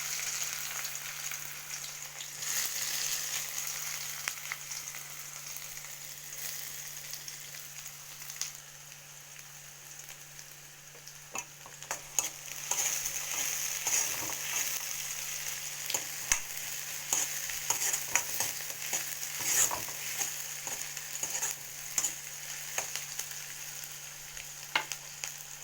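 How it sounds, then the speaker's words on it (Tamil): Small onions fry in oil for a dried-fish curry, a steady close sizzle with occasional stirring clicks and scrapes that thicken toward the end, and no voices. "நல்லா வெங்காயம் வதங்கணும். அப்போ தான் குழம்பு ரொம்ப டேஸ்ட்டாக இருக்கும்."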